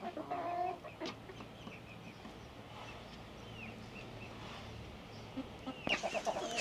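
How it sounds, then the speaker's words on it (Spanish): Five-month-old Carioca and white chickens give close clucking calls, loudest near the start and again at the end, with quieter farmyard background in between. "Vean, ven esa gallina."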